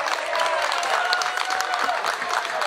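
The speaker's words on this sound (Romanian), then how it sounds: "Să aplaudăm pe acești minunați sportivi" An outdoor village crowd at a Pentecost celebration applauds volleyball players with sustained, even clapping from many hands throughout, and a voice faintly underneath.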